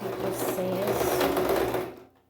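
A sewing machine runs a short reverse stitch with a steady, close, dense whir for about two seconds before cutting out abruptly.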